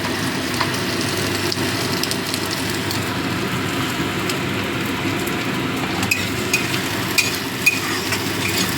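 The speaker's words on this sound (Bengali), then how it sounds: "চিংড়ি মাছের মাথাটা দিয়ে ভেজে নেব" Prawn heads fry in a pan for butter garlic prawns, a steady close hissing sizzle that holds at an even level throughout, with no talking over it.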